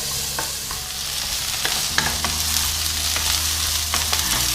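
Eggplant pieces fry in a pan with a steady, loud sizzle while a utensil stirs them, producing scattered clicks and scrapes against the pan throughout.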